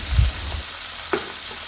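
Marinated spices fry in a pan for homemade grill chicken, giving a soft, steady sizzle with a brief low sputter near the start and a faint stir or scrape about a second in.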